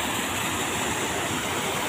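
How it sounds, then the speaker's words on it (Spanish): Waterfalls on a river at the Los Otates swimming spot in Chiapas, a loud, dense, unbroken roar of falling water heard up close and alone. "el ruido del agua cayendo pues es bien fuerte"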